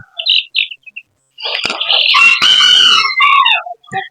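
Young chicks from a brassback butcher broodcock crossed with a lemon sweater broodhen chirp in high, thin peeps, several short calls early on and then a dense, overlapping burst of chirping close by, with no talking.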